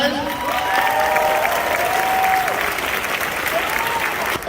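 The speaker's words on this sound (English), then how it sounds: "Give him a big round of applause." A live podcast audience applauds steadily, a dense wash of claps with a few whistles rising over it, loud and sustained throughout.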